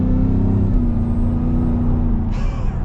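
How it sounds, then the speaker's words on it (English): A supercharged Shelby F-150 off-road pickup engine revs hard with a deep, steady drone and a high supercharger whine, loud and close. "Listen to the supercharger."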